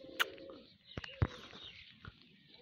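A pigeon coos and calls a few times during male pigeon flying, with sharp wing-flap or handling knocks in between, fairly close and otherwise quiet.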